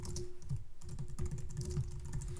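Fingers type notes on a computer keyboard in quick, uneven bursts of close, crisp key clicks with a brief pause early on, over a faint steady hum and no talk.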